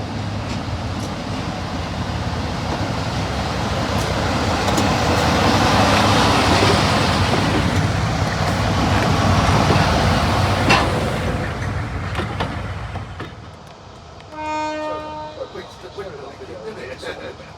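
Class 17 Clayton diesel locomotive D8568 hauls a train away from Highley station on the Severn Valley Railway, a loud rumbling engine and rolling wheels that swell and then fade, ending in quieter carriage noise.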